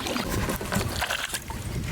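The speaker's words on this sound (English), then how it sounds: "I love paddling." Paddle strokes push a small fishing boat, with no trolling motor running, through the water in close, splashy, irregular dips and trickles over a short stretch.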